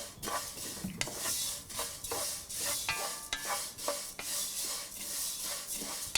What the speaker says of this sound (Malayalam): ഇതുപോലെ കൈയെടുക്കാതെ 3-4 മിനിറ്റ് മിക്സ് ചെയ്യണം.